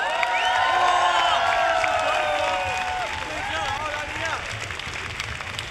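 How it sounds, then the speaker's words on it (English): Audience applause and cheering at the 2017 World Rubik's Cube Championship Nations Cup, Australia versus Germany; a steady crowd roar of clapping fills the hall, fading slightly toward the end, with whistles and voices mixed in. "One more round of applause for all the participants."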